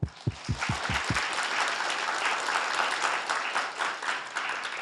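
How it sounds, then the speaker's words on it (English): An audience at a Tang Prize forum on rule of law breaks into sustained applause, many hands clapping in a dense, steady wash after a few louder close claps at the start. "let's give them a big applause"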